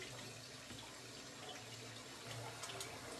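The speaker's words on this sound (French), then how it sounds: "on est en train de laver la semoule qu'on a l'habitude de manger" Semolina being rinsed and stirred in cold water, a steady close wash of water sloshing and trickling with no talk.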